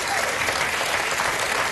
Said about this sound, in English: You guys are applauding him.